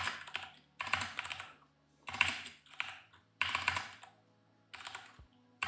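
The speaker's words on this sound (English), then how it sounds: "I'm using an American keyboard again, and it's a struggle." Typing on an American computer keyboard, bursts of quick close key clicks separated by short pauses, repeating in clusters, with no voices.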